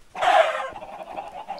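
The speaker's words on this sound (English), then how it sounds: "Chickens! Oh yeah, actually. They give food, so." Chickens in the video game Minecraft let out a loud, close cluck or squawk that trails into softer clucking, with no voices over it.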